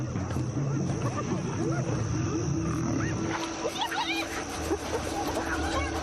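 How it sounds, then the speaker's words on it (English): Lions chase scattering hyenas on the African plain: overlapping whoops, yelps and growls from a chaotic animal scrum, loud and close, with a steady background hum. "The hyenas scatter, with lions on their heels."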